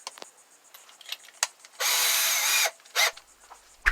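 A power drill widening bolt holes in a discount swivel seat base for a Ford Transit van, one loud close burst of under a second amid scattered clanks and handling knocks.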